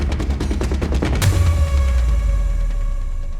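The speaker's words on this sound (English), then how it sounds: "liftoff of Artemis 1" The Artemis 1 rocket lifts off with a loud, crackling, rumbling roar that thickens into a sustained low rush partway through.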